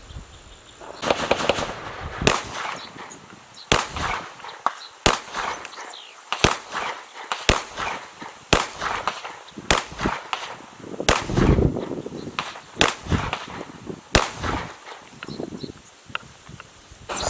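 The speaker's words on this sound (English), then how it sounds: "You'll be able to see pretty much how it's going as far as shooting it for tactical accuracy on paper and steel" A Canik TP9SF pistol fires a series of sharp, loud single shots at paper and steel targets outdoors, spaced unevenly about a second apart, with brief pauses and faint background rustle between them.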